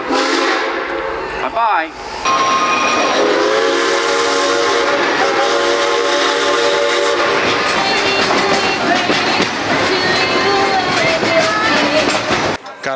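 A heritage train at Silver Dollar City in Branson, Missouri rolls past with clattering wheels, hissing and a sounding horn, loud and near, while a voice speaks briefly near the start.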